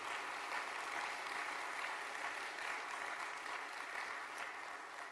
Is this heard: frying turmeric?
no